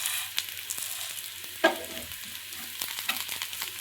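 Food frying in a pan for a local fry dish, crisping as in deep frying: a faint, steady sizzle with one sharper clatter partway through, as if stirred or turned, and no talking.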